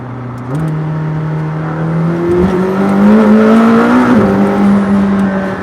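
A McLaren Senna sports car engine roars at wide open throttle, its pitch climbing steadily as it revs hard, loud and close.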